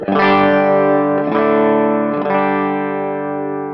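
An electric guitar on its bridge pickup plays through a custom amp, bright and distorted, with three strummed chords ringing out and sustaining loudly.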